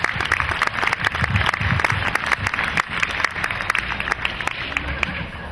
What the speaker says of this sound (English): So, nice round of applause for Mr.